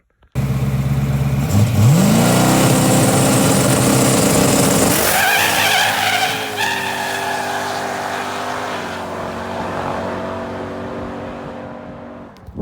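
A no prep Mercury Cougar race car with an upgraded fuel system makes a pass: a loud, sustained engine roar rises in pitch under hard acceleration with brief tire squeal, then gradually fades as it pulls away.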